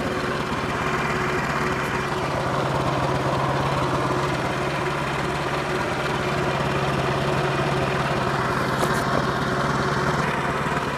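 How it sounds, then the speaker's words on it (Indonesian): An automatic motor scooter idles steadily just after being started, a continuous buzzing engine drone with a light rattle that holds at even loudness throughout. "Setelah mesin dinyalakan, didiamkan selama 1 hingga 2 menit agar seluruh komponen-komponen mesin itu dapat terlumasi oleh mesin."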